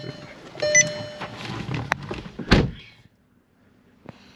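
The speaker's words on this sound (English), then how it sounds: "Close the door." A Volkswagen Jetta GLI car door thumps shut once with a solid slam after some rustling and clatter, then near silence.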